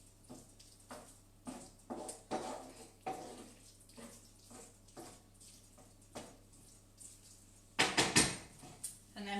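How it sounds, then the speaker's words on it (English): A spoon stirs cheese through a vegetable pasty filling in a pan taken off the heat, making soft scrapes and light clinks in an irregular rhythm, with a brief louder clatter near the end. "stir the cheese through"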